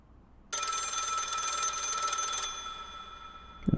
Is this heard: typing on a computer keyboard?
no